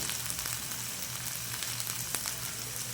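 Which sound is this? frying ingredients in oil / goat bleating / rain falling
frying ingredients in oil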